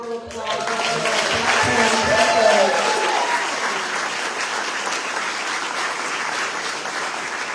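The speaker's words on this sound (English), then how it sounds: "I think we give them all one big round of applause." Sustained applause from an audience at a 2022 teacher awards ceremony, steady dense clapping that swells briefly and then holds at an even level, with a voice heard over the start.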